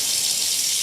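Tap water running steadily while hands are washed, a close, even hiss with no pauses or voices.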